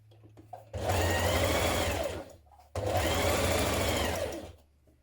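A sewing machine stitches a blouse's underarm sleeve seam at a 1 cm allowance in two steady, loud close-up runs of about two seconds each, with a short pause between them and no talking.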